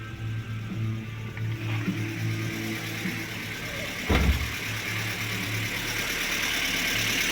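A car engine idles on LPG after repair of its STAG 200 gas controller, with a steady low hum and a brief thump partway through, running evenly throughout with no voices.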